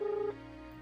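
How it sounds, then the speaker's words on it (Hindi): A phone keypad gives a single steady dial tone for about a third of a second, then cuts out, leaving a faint quiet background; the tone is soft and close. "अभी फ़ोन करके पूछ ले रहा हूँ वो कहाँ है"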